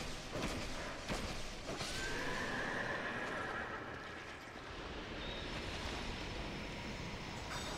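A horse in Dark Souls II Scholar of the First Sin gives a faint, rising whinny over a dense, steady wash of game ambience and clatter, heard at a distance with no voices.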